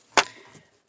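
A single sharp cut or chop into a Santa ornament during carving, a brief close snap that fades quickly, with no talk.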